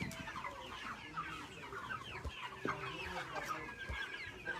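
Chickens cluck steadily close by, busy overlapping calls running through the whole stretch with a few louder squawks rising above the flock.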